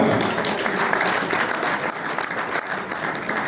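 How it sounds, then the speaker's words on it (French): An audience at a motor club rally awards ceremony applauds steadily, dense crowd clapping that holds an even level throughout the short stretch. "Un applaudissement pour Cyrielle Berger."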